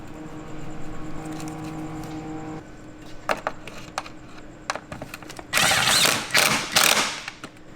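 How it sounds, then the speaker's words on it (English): Refastening a 10mm nut on a BMW E46 fuel filter mount under the chassis: a steady background hum, then scattered metallic clicks and ratchet ticks, ending in two louder bursts of rattling tool noise. "Then refasten the 10mm nut."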